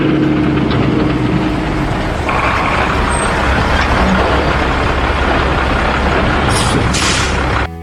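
A large truck in the film Duel pulls into a gas station, its engine rumbling loud and steady with a brief hiss of air brakes.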